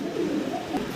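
Black stencil stager pigeons cooing softly and continuously in a pigeon house, a low steady murmur of several birds close by without pauses.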